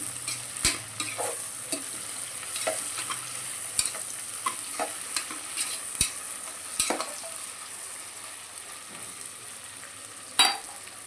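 Mushrooms frying in a pan for pulao with tomato, a soft continuous sizzle under scattered close scrapes and taps of a spoon stirring.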